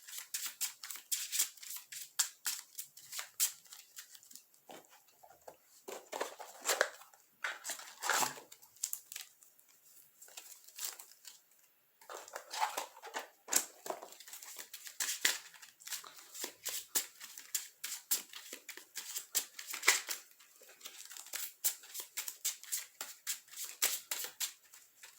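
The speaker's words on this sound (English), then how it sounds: "I will make sure to cut the deck on all these after I'm done shuffling" A deck of Yu-Gi-Oh trading cards is shuffled at a tournament, giving repeated quiet bursts of riffling and snapping card noise in an uneven rhythm with no talking.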